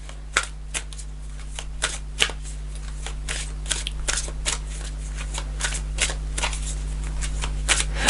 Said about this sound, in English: I'm going to pull a final card.